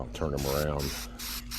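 Satin coat sprayed from a can onto 1987 El Camino headlights, heard as short hissing bursts close by, with someone talking over and between them.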